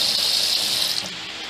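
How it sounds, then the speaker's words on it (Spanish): Tap water runs steadily into a pot holding three tomatoes and six serrano chiles for molcajete salsa, a close, continuous hiss and splash that eases slightly toward the end. "Le voy a poner agua hasta que los tape"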